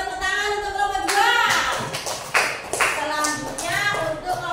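A classroom of young schoolchildren applauds for a group of classmates, a dense burst of clapping from many small hands, with children's voices chattering over it.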